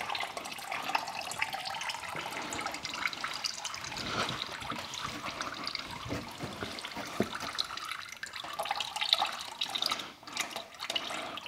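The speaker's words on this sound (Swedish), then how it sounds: "Värsta droppar." Engine oil drips and trickles close by during an oil change on a Toyota C-HR, amid clattering, handling noises in a busy, cluttered space.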